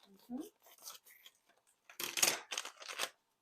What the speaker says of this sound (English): you open it with that. The scissors.